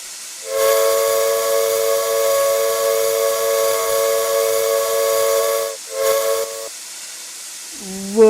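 American steam locomotive whistle in the RO-Scale Sandbox game sounds one long, loud, breathy chord with hiss for about five seconds, then two short blasts, closing on a brief lower tone.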